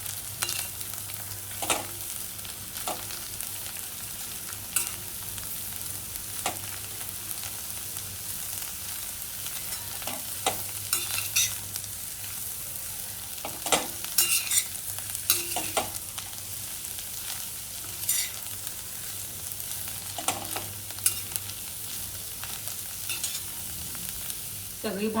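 Bharangi greens are stir-fried with garlic and onion over a low flame, a soft constant sizzle under repeated scraping stirs of a spatula in the pan, close and steady with no speech.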